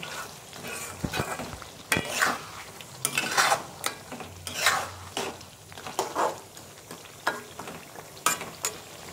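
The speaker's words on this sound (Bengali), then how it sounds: "ধনে পাতাটা এর সঙ্গে ভালো করে মিশিয়ে নিচ্ছি।" Chopped coriander leaves being stirred into a pan of goat head curry, a spoon scraping and clinking against the pot in irregular strokes with light sizzling underneath, close and fairly quiet.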